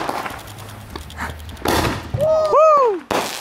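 Fireworks go off in a backyard, with a couple of sharp bangs and crackling bursts followed by a loud rising whistle, close by, while people talk and shout around them.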